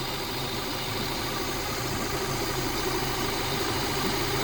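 A Suzuki DF90A outboard motor runs after repair, a steady close droning hum with constant vibration and no pauses.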